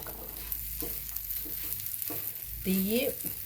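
Breadfruit and prawn stir-fry being stirred in a pan, with a continuous sizzle, soft intermittent scraping strokes and a short squeaky scrape near the end.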